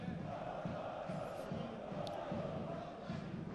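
Home fans in a stadium during a Legionovia Legionowo v Radomiak Radom football match applaud a fair-play gesture, a steady distant crowd roar with rhythmic chanting or clapping beneath it.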